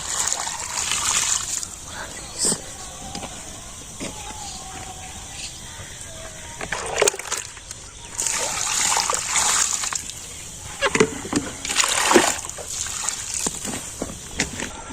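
Water splashes and sloshes in irregular bursts in a Bangladeshi village, being poured or thrown onto a plant, with louder surges near the middle and end over steady outdoor background noise and occasional voices.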